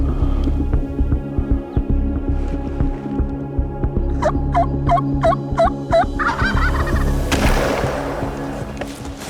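Off in the distance a wild turkey gobbles, a quick burst of rattling notes standing out against a steady low hum of wind or motor noise in the field. No one speaks.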